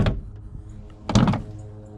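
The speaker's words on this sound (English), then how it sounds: "Watch when I open the door here." A car door opening with a worn latch, a short clunk at the start followed by a louder, sharper latch thunk and rattle about a second later, close and alone.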